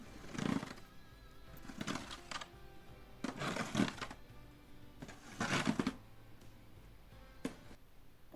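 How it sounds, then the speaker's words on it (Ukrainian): A small shovel scraping snow in several separate strokes, each a short rasping scrape followed by a pause, close by and moderately loud, with no voices. "А цей звук чуємо тоді, коли чистимо сніг лопаткою, звук шкрябання."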